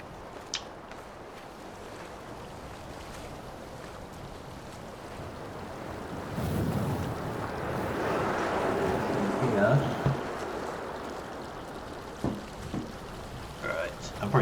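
Ocean waves and surf washing in the game Dear Esther, a soft steady wash of water and wind that swells louder midway, with a person talking faintly in places.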